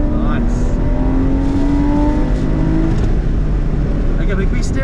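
Car engine accelerating under throttle during a police chase between a Porsche Boxster and a BMW M3, a loud continuous rising engine note with hints of tire noise, heard close up from inside the car.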